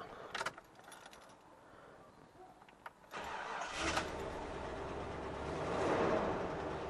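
Keys jangle, then the engine of a 1988 Jeep Grand Wagoneer cranks and catches at about three seconds, settling into a rough, steady idle close by.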